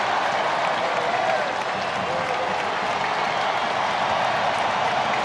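Baseball crowd at the Coliseum applauding and cheering throughout an A's versus Angels game, a dense, steady roar of clapping filling a large stadium with no pause.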